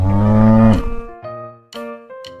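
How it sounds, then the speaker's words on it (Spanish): A cow lets out one long, loud, deep moo, followed by a few shorter, fainter lowing calls after brief pauses. "La vaca."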